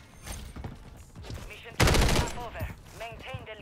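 DG 58 LSW light machine gun firing in Modern Warfare 3 team deathmatch: a loud sustained burst of rapid automatic shots in the middle, framed by quieter game effects and shorter bursts, with no talk.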